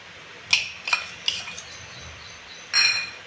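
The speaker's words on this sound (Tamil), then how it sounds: "எல்லாம் சேர்த்து கலக்கும் நல்லா கொட்டி கலந்துக்கங்க" Ingredients for a Tamil mixture snack, including roasted gram and chilli powder, are stirred together in a pan: a few light metallic clinks and scrapes of a spoon against the pan, separated by short quiet gaps.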